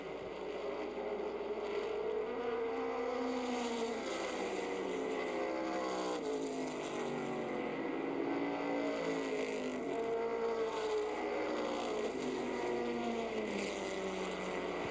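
Race cars lapping a short track during a racing event, engines roaring continuously and loud with pitch rising and falling as cars sweep past, no talk over them.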